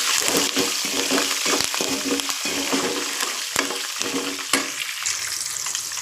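Green chillies and curry leaves sizzle in hot oil for a lemon rice tempering, a crackling, spattering fry with stirring clinks and bursts of popping, close and fairly loud with no talk.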